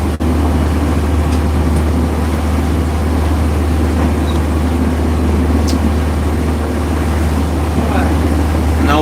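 A boat engine drones steadily and loudly at sea, a constant low rumble with hull and water noise that runs unbroken throughout, with occasional faint clicks on top.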